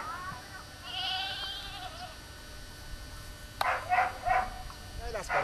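Goat kids bleat at a goat breeding farm, a few short wavering cries in the second half, fairly close, with someone talking over the start.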